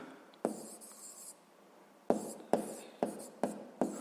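A pen writing on paper close up, with a longer scribbled stretch followed by several short, sharp strokes in quick succession, quiet and alone.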